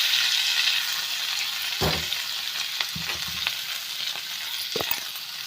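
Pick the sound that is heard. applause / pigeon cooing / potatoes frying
potatoes frying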